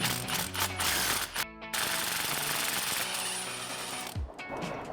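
An impact wrench with an 8mm socket removing driveshaft bolts on a Jeep Wrangler JK, a loud rapid hammering rattle that runs almost continuously with one brief pause.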